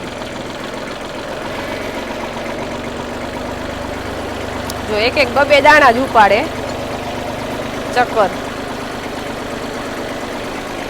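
Tractor engine idling and running slowly while sowing a chilli field, a steady low knocking drone throughout, with a person talking briefly over it midway.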